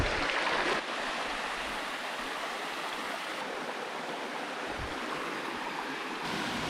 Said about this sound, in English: So we've made it to the upper falls and it is just beautiful and tranquil up here.